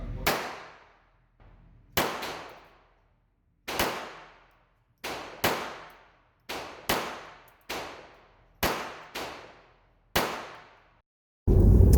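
Single gunshots at a shooting range crack out one at a time, nine or so sharp loud reports spaced roughly a second apart, each ringing off with a decaying echo.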